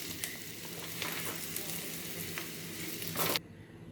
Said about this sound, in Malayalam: ക്യാരറ്റും ഉള്ളിയും നമ്മുടെ ക്യാപ്സിക്കവും നല്ലപോലെ ഒന്ന് വഴണ്ടു